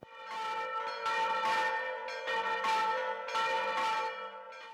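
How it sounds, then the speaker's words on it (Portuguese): Church bells ring in São João del Rei during a traditional bell contest played by bell ringers: bright, clanging peals strike in repeated bursts with resonant ringing between them, fairly close and with no talking. "continua com uma batalha centenária de sinos"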